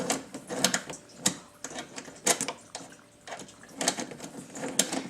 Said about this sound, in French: Donc je vais tenter de desserrer